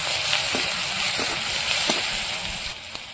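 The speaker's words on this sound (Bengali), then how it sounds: "তেলের মধ্যে শুকনো লঙ্কা ফোড়ন দেবো, গোটা সরষে, রসুন, থেতো করা রসুন" Dry red chillies, whole mustard seeds and crushed garlic sizzling in hot oil, a steady close frying hiss with a few faint crackles and pops along the way, no talking.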